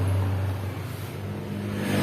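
A 2010 Suzuki Satria FU motorcycle with its stock original exhaust idles close by right after being started following carburetor work. It gives a steady low drone with no talk.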